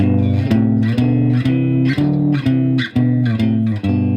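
A guitar plays a rising major scale harmonized in thirds, two pitches struck together, each step evenly spaced about every half second, clear and close.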